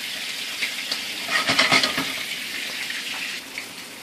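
Chopped fresh garlic sizzles in hot oil in a preheated pan, a steady frying hiss with a brief louder crackling burst in the middle, close by and alone.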